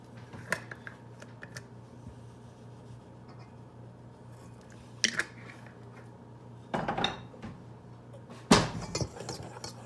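Dry waffle ingredients being whisked together in a bowl, producing faint, scattered metallic clinks and scrapes with a few sharper knocks against the bowl over a quiet kitchen background.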